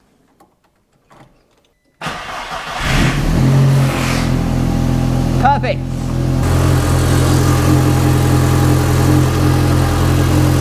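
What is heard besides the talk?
VW Mk1 Caddy 20V turbo engine starting and idling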